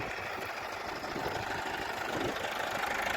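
A Kata KE 504 tractor engine idles steadily at a fairly quiet, even level, with a constant rough chugging and no voices.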